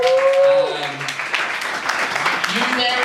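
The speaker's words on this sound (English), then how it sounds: "Give them a round of applause." A comedy night crowd in Cowes applauds and cheers loudly for a few seconds, steady clapping with some shouts, in a lively room.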